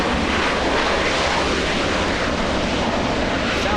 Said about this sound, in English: Southwest 3024 flying in from Albuquerque, New Mexico. A 737.